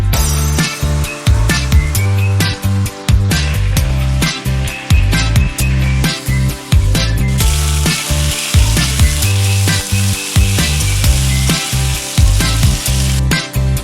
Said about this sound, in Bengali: এবার ওই তেলেতেই দিয়ে দেব আগে থেকে কেটে রাখা আলু।